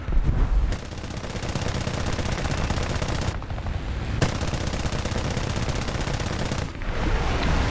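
Cannons on a J6B jet fighter in War Thunder arcade air combat fire in long, rapid, loud bursts, with two brief pauses between streams of fire.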